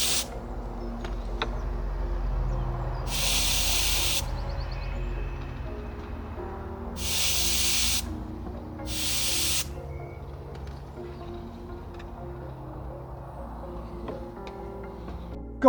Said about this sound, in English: degas the second strut